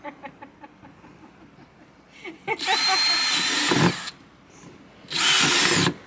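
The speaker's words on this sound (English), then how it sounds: "do some precision drilling now" A power drill bores drainage holes for newly bought plants, in two loud, close bursts: a longer run of about a second and a half, then a shorter one after a pause.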